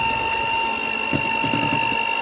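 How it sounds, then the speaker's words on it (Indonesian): An electric hand mixer beats margarine, sugar and egg yolk for cheese sago cookie dough, giving a steady high motor whine with a faint rattling churn of the beaters in the bowl, close and continuous. "Lalu ini kita kocok sampai lembut dengan mixer kurang lebih sekitar 2 menitan"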